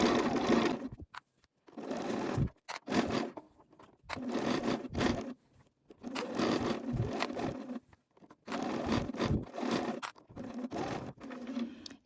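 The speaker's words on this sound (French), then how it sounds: "je fais quand même une marche arrière pour renforcer la couture" A sewing machine backstitches to reinforce the shoulder seam of a Sweety cardigan, running in several short close bursts of rapid stitching separated by brief pauses.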